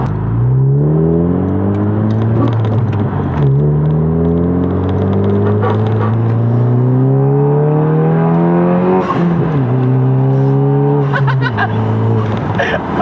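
A 10th-generation Honda Civic Si fitted with a short shifter drives steadily, its engine loud and close throughout, rising through the revs and dropping sharply at each gear change, with several distinct upshifts spaced across the run.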